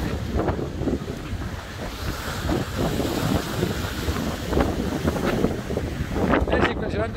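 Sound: sailboat surfing waves in the Strait of Le Maire

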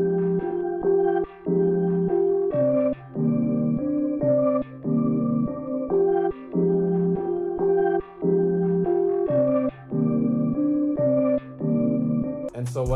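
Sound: Omnisphere Firefly Pulse synth pad pattern in FL Studio

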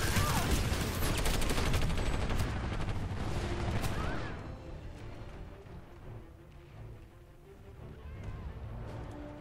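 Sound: shotgun fire in video game PlanetSide 2

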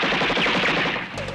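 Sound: machine gun fire in a TV action scene

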